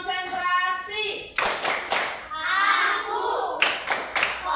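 Schoolchildren in an Indonesian classroom perform a rhythmic clapping game, sharp bursts of unison hand claps alternating with children chanting together, the claps loud and close in quick groups.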